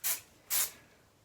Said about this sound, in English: now I'm gonna set it with a little hairspray